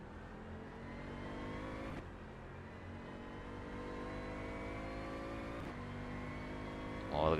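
Bentley Continental GT3 race car at night at Palm Beach International Raceway, its engine droning steadily from onboard with two sharp gear-change breaks and a brief louder burst at the end.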